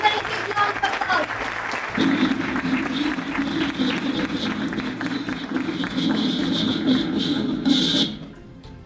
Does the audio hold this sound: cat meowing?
no